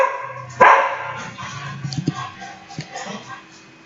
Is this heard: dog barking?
yes